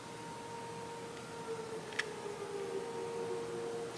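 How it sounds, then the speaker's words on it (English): Tornado siren wailing outside at a distance, a steady faint tone held under broad background noise with no voices. "you hear the tornado sirens going off"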